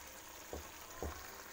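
Chicken simmering uncovered in a pan as its liquid cooks off, giving a steady soft sizzle and bubbling hiss with a couple of small clinks, heard alone at close range.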